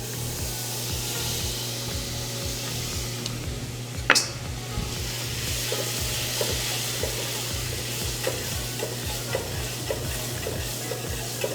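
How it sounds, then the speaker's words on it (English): Butter melting in a saucepan while a utensil stirs it in a steady rhythmic scraping loop, with soft sizzle over a low hum and one sharp knock partway through, close with no talk. "we're gonna get started by melting some butter in our saucepan"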